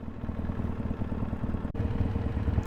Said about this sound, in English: I hear the fan running.